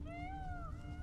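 A cat meows in the video game The Witcher 3: Blood and Wine, one drawn-out, rising-then-falling cry that is close and clear over a low rumbling game backdrop.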